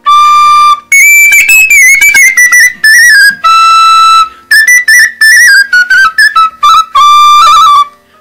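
A Romanian fluier, a wooden folk whistle, plays a loud, bright, lively melody with quick ornamented runs and short breaks between phrases, solo and close up.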